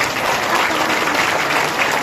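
Loud, dense applause from an audience at a company event honouring a women's team, continuous clapping throughout.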